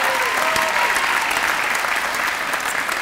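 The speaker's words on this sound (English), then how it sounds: "how about we give an equally huge round of applause to Mr." An audience at a community employee recognition celebration gives a sustained round of applause, dense and even clapping from a large crowd holding steady for the whole stretch.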